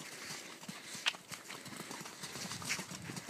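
Horse cantering on a lunge line, its hoofbeats coming as soft, steady rhythmic thuds at moderate distance with some outdoor background.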